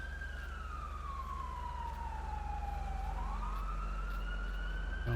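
Wailing emergency sirens from a fire truck and an ambulance in the video game GTA V, one tone sweeping down and another rising to cross it, sustained and steady over a constant engine rumble with no talk.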